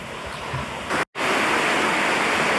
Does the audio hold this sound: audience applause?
no